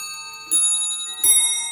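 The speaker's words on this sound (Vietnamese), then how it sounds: "Chuông của đồng hồ thì cứ 15 phút là sẽ chơi nhạc một lần. Và bản nhạc đó là bản nhạc Westminster." A Franz Hermle & Sohn table clock with gold-plated fittings and 11 ruby jewels rings two clear, bright chime notes about three-quarters of a second apart, each ringing on with long, sustained overtones in a quiet room.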